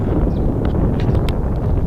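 Wind blows outdoors as rain approaches at a pond, a steady broadband rush of gusts buffeting the microphone throughout, loud and close with no other clear sound.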